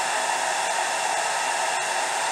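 A hair dryer blowing steadily on a wig, a loud, constant close-up whoosh of air with no change in pitch and no speech.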